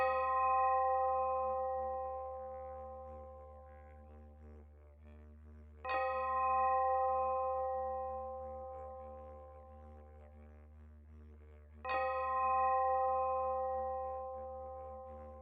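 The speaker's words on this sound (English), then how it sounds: "Now begin to gently track the sound of bells all the way to the end." A bell rings three times at even intervals, each bright strike ringing out and slowly fading before the next, with a low steady hum underneath.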